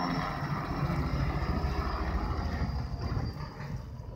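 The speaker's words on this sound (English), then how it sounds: "all you hear is the noise of the helicopters" Steady, heavy rotor drone from low-flying helicopters at Annapurna Base Camp in the Nepal Himalayas fills the whole stretch, loud and close, with a constant low rumble and no voices.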